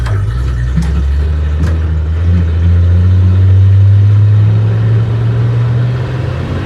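A 1966 International pickup truck engine revs under way while driving, a loud low steady drone that swells in the middle and then eases, heard up close from the cab with no talking.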